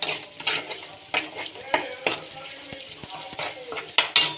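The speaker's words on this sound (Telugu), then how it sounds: "ఉప్పు పసుపు వేసి బాగా తిప్పుకోవాలి" A spoon scrapes and clinks against a metal pot as curry with salt and turmeric is stirred, giving irregular close knocks and rattles with faint voices in the background.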